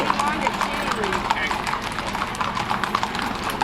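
Horse hooves clip-clop steadily during a cattle drive in Costa Mesa, a dense run of rapid hoofbeats with voices talking over the top and a busy outdoor background.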